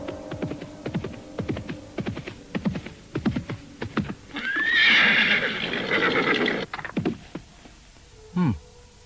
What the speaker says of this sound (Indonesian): kuda itu menderap melewati mereka